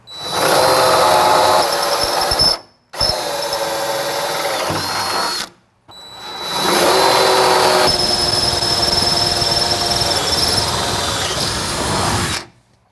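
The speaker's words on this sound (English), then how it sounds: "Now we're going to drill from the outer hole and drill our new inner hole." A power drill bores holes through a Jeep fender brace in three loud, steady runs separated by short pauses, the last run longest with a slight change in pitch partway through.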